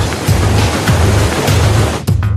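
Water rushing in a river below a dam after ten floodgates were opened, a loud, steady roaring surge with low rumbling swells, heard up close with no voices.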